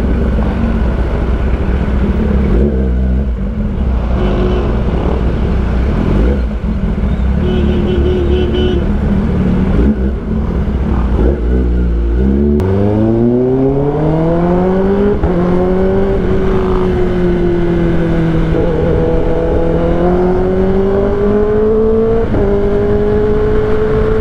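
A Kawasaki ZX10R motorcycle ridden through traffic, its engine droning at low revs, then pulling away with a rising tone through the gears, close to the microphone amid road and wind noise.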